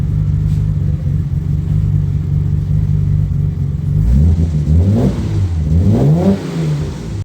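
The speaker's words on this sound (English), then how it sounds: "Let me give it a rev go there, a slide." Car engine at its first startup after a rebuild project, a slightly smoky unrebuilt engine with a loud exhaust, held at a steady idle and then blipped through two or three quick revs that rise and fall near the microphone.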